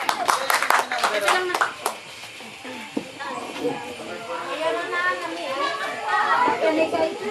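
Party audience clapping for Tita Rosana as she is introduced to sing at an evening event, a burst of close claps at the start giving way to crowd chatter and voices talking.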